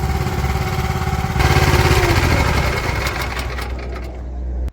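A Wolfe Ridge 17RS horizontal log splitter runs close by, its engine droning steadily with a louder, busier stretch in the middle as rounds are split, then easing before cutting off abruptly.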